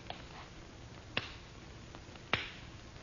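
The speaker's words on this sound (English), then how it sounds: "I have only to clap my hands lightly, monsieur, over the flame in the bowl" Two light hand claps in an old-time radio drama, sharp and isolated about a second apart against a quiet, hissy background.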